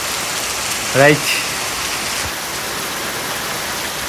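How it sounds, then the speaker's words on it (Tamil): Heavy rain pours steadily in a village setting as a dense, constant hiss of rain hitting surfaces, with a short spoken word briefly heard over it. "மழை வந்துருச்சு, விட்டு ஊற்றிக்கிட்டு இருக்குது."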